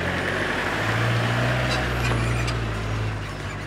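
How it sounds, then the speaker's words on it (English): Repossession tow truck approaching with a heavy diesel engine growl that swells as it nears, plus a brief air-brake hiss, loud and steady with no one talking. "I can hear Sean bringing the truck down"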